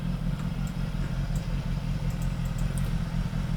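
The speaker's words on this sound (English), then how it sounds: "Apologies if you can hear that motorbike outside" Motorbike engine droning outside as a steady low rumble, muffled and moderately loud, with faint higher clatter on top.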